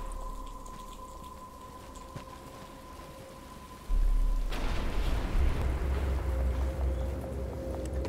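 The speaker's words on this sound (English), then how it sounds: "But it's starting to rain." Rain begins falling in the Batman: Arkham Asylum video game, a steady broadband patter that swells suddenly partway through and continues loud and close over a low ambient hum.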